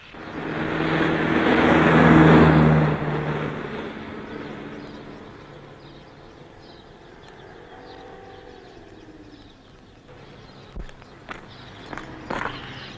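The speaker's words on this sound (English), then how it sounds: "Car coming. Blue Ford." A blue Ford car approaches along a road in a 1963 setting, its engine and tire noise swelling loud over the first few seconds and then fading to a low rumble, with a few sharp clicks near the end.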